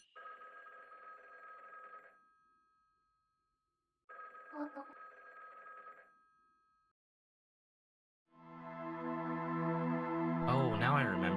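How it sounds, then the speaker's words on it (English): A telephone in the video game Schrodinger's Call rings in two loud two-second bursts separated by silence, followed by a swelling musical tone at the end. "Does that mean I should ignore this phone call?"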